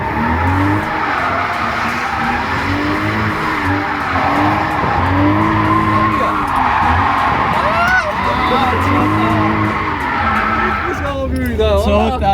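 A car drifting with squealing, skidding tyres and a revving engine, loud and continuous throughout, with people talking over it.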